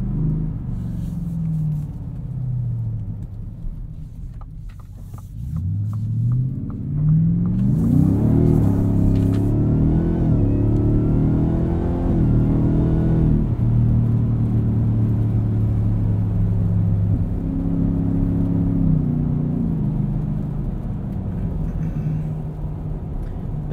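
A 2023 Ford F-150 Raptor R engine revs hard while driving on the street, a loud, deep rumble that climbs and falls through several throttle blips and shifts, steady and close throughout.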